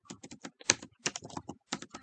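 Rapid keystrokes on a computer keyboard while entering a shell echo command, irregular clusters of close, crisp clicks with short pauses between bursts and no talking.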